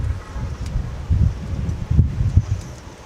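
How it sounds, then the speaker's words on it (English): Strong wind buffets the microphone at an airport aircraft viewing area, gusty low rumbles and rustling swelling and easing over a few seconds, with no talk. "And the wind's continuing to batter us here at the aircraft viewing area."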